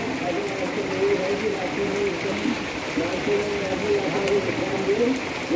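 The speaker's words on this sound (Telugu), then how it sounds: "అది వర్షం ఎక్కువైంది. స్నోఫాల్ కూడా అవుతుంది." Heavy rain with snowfall on the Kedarnath trek, a steady dense patter and rush of falling water throughout, with voices talking over it.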